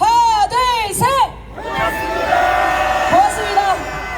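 A large crowd at a candlelight rally shouts a phrase together in loud unison bursts, the chorus of voices repeating a few times with brief pauses and lighter cheering between.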